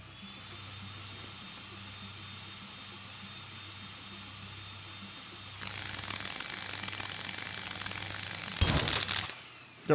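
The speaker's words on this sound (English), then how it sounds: "Switch the drill on." A drill in the video game Stories Untold whines with a steady high-pitched hum, then shifts pitch and roughens into a grinding buzz, ending in a brief loud burst.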